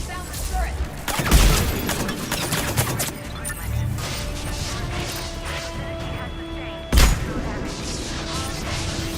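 Turret gunfire in Mass Effect 3 aboard a ship with compromised hull integrity, a steady clatter of shots and impacts with two heavy crashing booms, a voice speaking over the din.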